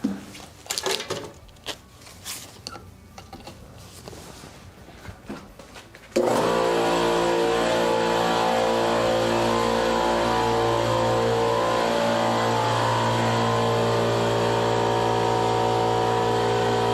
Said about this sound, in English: at least you hear less of the pump now, or the compressor